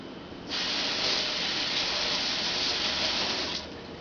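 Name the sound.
washing a spoon under running tap water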